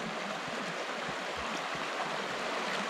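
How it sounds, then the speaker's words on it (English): A snowy mountain river flows steadily nearby, a continuous broadband rush of water with no voices, holding an even level throughout. "Walking back along a beautiful snowy mountain river."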